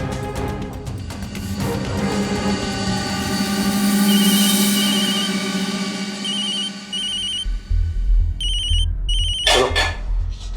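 A telephone rings in a TV crime drama scene. Repeated electronic ringtone bursts sound over a sustained background score, with a heavier low rumble near the end.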